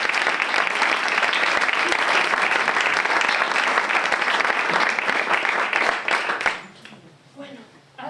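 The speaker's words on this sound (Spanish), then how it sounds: "yo creo que se merece un aplauso, ¿no?" Loud, dense applause from a live television studio audience at a storytelling show, sustained steadily for about six seconds before thinning out and fading into scattered claps and faint murmuring at the end.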